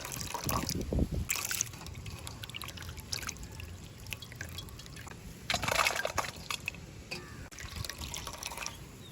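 Water drips and trickles from a squeezed banana flower being prepared for vadai in a village kitchen, close and wet with irregular splashy bursts and no talk.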